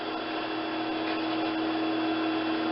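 Sewing machine running steadily as it stitches hood elastic, a constant close, even mechanical whir with no breaks or talking.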